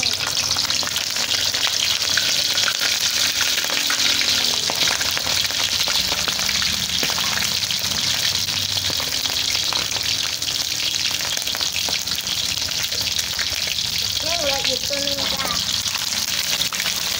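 Mackerel fries in hot oil in a pan, making a dense, continuous sizzle and crackle that stays steady and fairly loud throughout.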